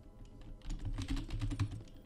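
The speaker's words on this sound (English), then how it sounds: "I can type these words again" Words are typed on a computer keyboard while playing Epistory, a quick burst of close, fairly soft key clicks after a brief pause, with no talk.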